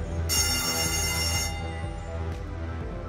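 A bright tram bell rings out briefly over the low rumble of a moving tram in a 3D animation, then fades as the vehicle noise continues.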